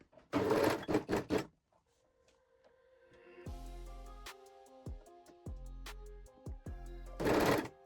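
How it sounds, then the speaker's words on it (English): A sewing machine stitches elastic onto the edge of a bikini in short, quick bursts at the start and end, with background music playing in between. "Now we can sew the other top edge also with the elastic."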